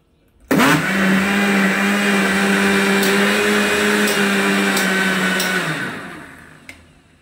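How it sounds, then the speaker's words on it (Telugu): Mixer blender whirring loudly as it blends a Vestige Veslim slimming shake, a steady motor drone starting abruptly and running about five seconds before winding down, with no talk over it. "చూడండి ఇది షేక్ ఇంకొకసారి మిక్సీ చేసి గ్లాస్లో పోసేసుకుందాము."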